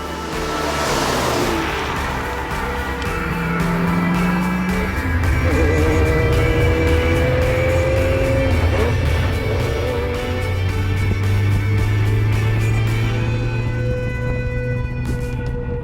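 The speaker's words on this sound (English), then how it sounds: "owners of road-going classic supercars depart," Road-going classic supercars set off on a dawn rally near Chantilly in poor weather, engines revving and droning past one after another, rising and falling tones sweeping by at close range.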